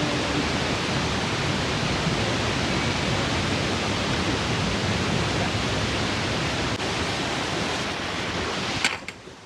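The Ghatte Khola, a mountain river near Gosainkunda, rushes past in a constant close roar of churning water, steady for the whole stretch apart from a faint brief knock near the end.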